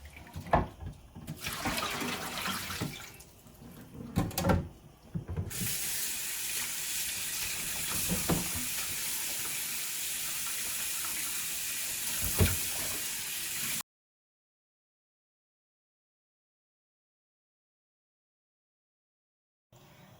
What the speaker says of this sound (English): This is a whole lemon. All right, we're gonna wash it 2 times.